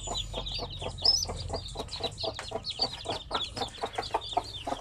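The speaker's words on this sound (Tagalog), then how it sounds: "Ilan kayo mga sisiw nito?" A mother hen of the Zampen breed and about ten chicks, the chicks peeping in a constant high chorus while the hen gives low soft clucks beneath them, close and clear, with no talking.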